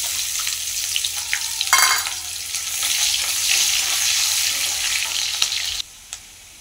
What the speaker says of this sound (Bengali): এবার ওই তেলে দিয়ে দিব পাঁচফোড়ন আর কেটে রাখা পেঁয়াজ।